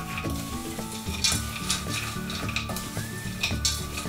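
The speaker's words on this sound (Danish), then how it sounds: "Så skal vi røre sammen." Chopped nuts and coconut flour being stirred into melted coconut oil and honey in a pan for granola bars, a steady scraping and stirring with spoon clinks against the pot and a light sizzle, no voices.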